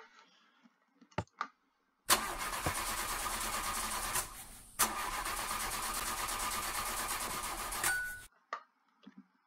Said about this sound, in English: Start up the backup engines.